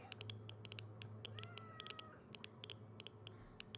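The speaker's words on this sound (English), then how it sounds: "Was that a cat sound?" A cat meows in a video game, several short high calls repeating over a steady low background hum and faint tapping, fairly quiet throughout.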